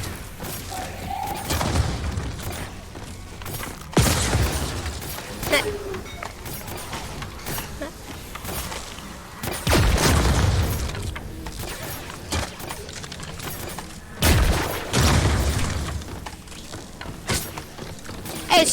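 Fortnite gunfire from a Save the World match fires in repeated heavy, booming bursts spread across the stretch, with a steady game soundscape underneath and a voice talking throughout.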